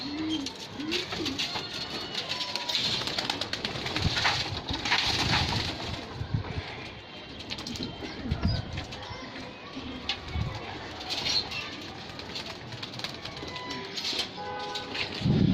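Madrasi pigeons coo softly in a steady, continuous murmur close by, with flutters and scattered bird sounds mixed in.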